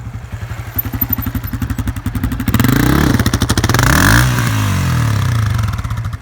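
A Honda CRF250f dirt bike engine runs close by with a loud, throbbing idle that revs up and climbs around the middle before settling back to a rough, pulsing idle, with clattering mechanical noise throughout.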